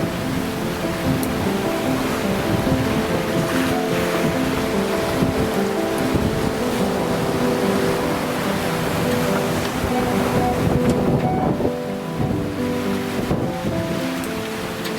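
Steady roar of wind and roughly 2-metre waves at sea while sailing across Bass Strait, continuous and loud, with a low engine-like hum running underneath throughout.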